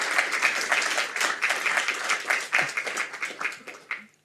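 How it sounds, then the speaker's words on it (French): An audience at an energy conference on renewables and electricity storage claps warmly for the speakers, a lively patter of hands that thins and fades out near the end. "Je vous propose de les applaudir chaudement."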